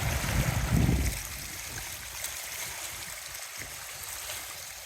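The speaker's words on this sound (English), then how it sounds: "just the water lapping against the rocks" Water lapping against rocks on a Michigan shoreline on a breezy, sunny day, a steady soft wash of small waves close by, a little stronger in the first second, with no talk.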